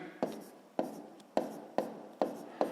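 Handwriting numbers for a multiplication problem: six short, evenly spaced scratchy pen strokes on paper, close and quiet, each with a sharp onset fading away.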